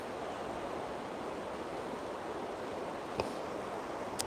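Steady rushing river water on the Ness Islands in Inverness fills the scene, a broad continuous flow with no pauses, and a brief sharp knock near the end.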